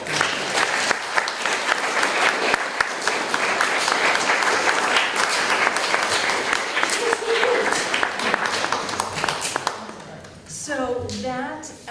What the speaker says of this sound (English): if everyone could join me in giving them a round of applause